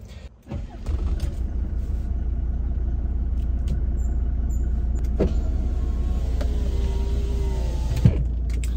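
A 30-year-old Mercedes-Benz E250 W124 diesel catches on the first try, then settles into a steady, deep, rumbling idle that carries on evenly, with a few faint clicks on top.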